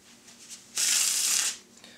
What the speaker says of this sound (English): and we'll give the cards another Jordan Beckham shuffle.